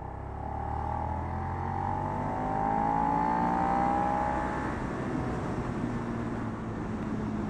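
A 2016 Suzuki SV650 motorcycle engine drones steadily while riding on a test ride, its pitch rising and falling gently as the bike pulls along, with no voices.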